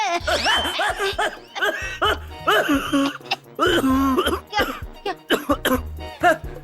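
Repeated bursts of coughing mixed with chuckling and throat clearing, close and fairly loud, in uneven fits.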